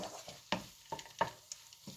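Chicken, rice and vegetables cook in a pan over very low heat, giving a soft sizzle broken by several sharp clinks and scrapes of stirring spaced through the short stretch.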